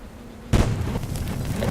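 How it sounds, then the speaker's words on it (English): A sudden booming explosion in the video game Little Inferno bursts in after a low hum, followed by a sustained rumbling, crackling roar. "Explosions!"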